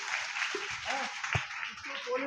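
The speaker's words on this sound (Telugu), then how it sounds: "చప్పట్లు కొట్టండి." Congregation clapping during a Sunday church service, a soft patter of many hands under a voice speaking over it.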